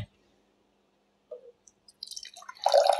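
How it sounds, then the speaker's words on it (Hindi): Blended pomegranate juice is poured into a jug: near-silence with a few faint drips, then a close, gurgling pour of liquid that swells toward the end. "अब हम इसको इसमें जग में डालेंगे।"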